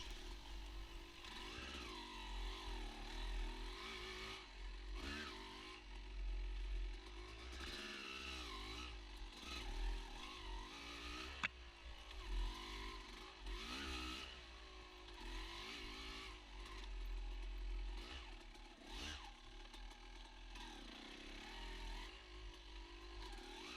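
Off-road motorcycle ridden along single-track trails at Lakeview OHV, engine revving and surging continuously throughout with shifting pitch, close and loud, with no talking.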